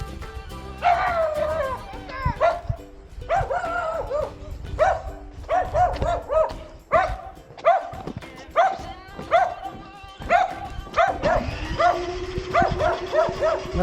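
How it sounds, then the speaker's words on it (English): A dog barks excitedly outdoors during a New York snowstorm, giving a long run of rapid, loud yips and bow-wows in irregular bursts with brief pauses, close to the microphone. "That dog's going nuts."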